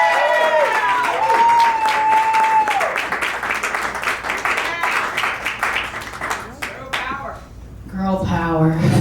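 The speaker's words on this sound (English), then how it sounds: "Clap it up for her, guys." A live comedy podcast audience claps and cheers to welcome a comic onstage, loud and dense, tapering briefly before a voice begins speaking near the end.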